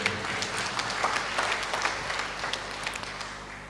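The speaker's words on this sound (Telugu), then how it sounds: "గట్టిగా చప్పట్లు కొడదామా." A church congregation claps together after a blessing, a fairly soft, steady burst of applause lasting a few seconds without speech over it.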